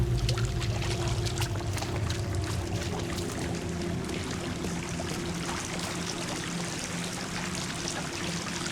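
Water flowing through a dark cavern in The Sinking City, a steady pouring and trickling wash that holds at an even level throughout, with a low background hum and no talk.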